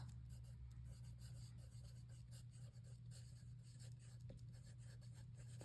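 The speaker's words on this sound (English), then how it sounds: "I'm going to write congrats." A pen writes a title by hand on a scrapbook page, giving soft, close scratchy strokes in short bursts over a steady low hum, without any talk.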